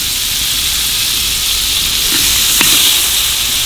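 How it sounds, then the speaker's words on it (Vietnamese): Butter melting and sizzling in a frying pan that was just used to fry garlic, a steady, loud hiss with faint crackles throughout and no talking. "Bà làm nó chảy tan bơ ra."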